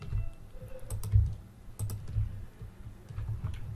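Computer keyboard keys and mouse buttons clicked while working in Photoshop, with a steady run of close, crisp taps and clicks over a low background rumble.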